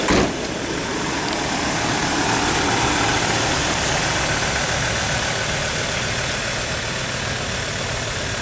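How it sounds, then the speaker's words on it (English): A well-kept vehicle's clean-running 5-cylinder diesel engine idling close by, a loud, steady rumbling chug that holds evenly throughout without speech. "So there's our 5-cylinder diesel engine. As you can see, it's nice and clean, it runs well"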